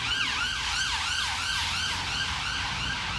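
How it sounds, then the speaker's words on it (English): An ambulance siren wails in fast, repeating rising-and-falling sweeps, loud and steady over the low rumble of road traffic, with no voices. "an ambulance."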